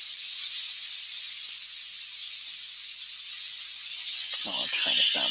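A fish fillet cooks in a pan with garlic and butter, giving a loud, steady, close sizzle and hiss throughout, with a brief low voice near the end.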